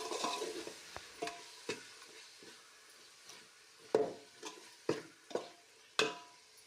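A spoon scrapes and taps irregularly against a pan while stirring a mint and coriander tempering, giving soft clacks over a faint sizzle in a quiet kitchen.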